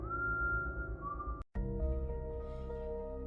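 Someone whistles a sustained, gently wavering note for over a second, then the sound cuts abruptly to a low steady drone.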